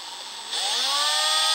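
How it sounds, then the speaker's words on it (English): A small 1/8-inch drill bit bores into candle wax, its close, steady whir jumping up in loudness partway through and then holding a high, rising tone. "I'll drill a little hole through the wax,"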